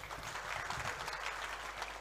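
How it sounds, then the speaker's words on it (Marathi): Audience applause at a Marathi event opening ceremony, a dense, steady patter of many hands clapping continuously throughout, moderately loud with no voices standing out. "त्यामुळे जरा जोरदार टाळ्या होऊन द्या"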